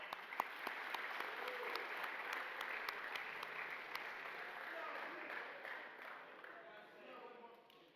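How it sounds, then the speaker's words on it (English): Audience applause at a college sports awards ceremony, a sustained wash of clapping from a large crowd with a few sharp, close claps standing out, tapering slightly toward the end, with faint voices mixed in. "Once again, a big round of applause for Rams football."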